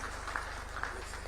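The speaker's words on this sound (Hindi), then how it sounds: "तालियां बजती रहनी चाहिए।" Audience applause at a Ministry of Women and Child Development reflection camp (chintan shivir): a brief, continuous wash of clapping from a crowded hall.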